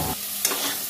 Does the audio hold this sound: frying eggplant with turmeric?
yes